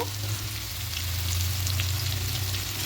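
Onion, tomato paste and spices sauté in a pan for a mustard curry of sea tangra fish, a steady close sizzle and crackle that continues throughout, with no talk.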